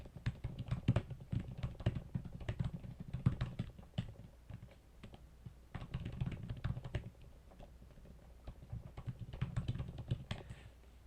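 Steady bursts of typing on a computer keyboard, clicking in irregular flurries with brief pauses, fairly close and moderately loud, with no talking.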